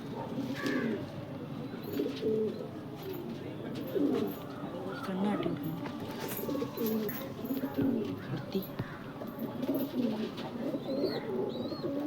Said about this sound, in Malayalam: ഇതാണ് അടുത്ത സെയിലിനുള്ളൊരു പ്രാവ്